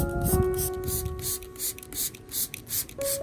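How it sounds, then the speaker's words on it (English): Short hissing bursts from a spray bottle misting the leaves and stems of an Anthurium plant, around eight quick mists in an uneven rhythm, over a faint background tone. "mist it evenly over the leaves and stems of the Anthurium"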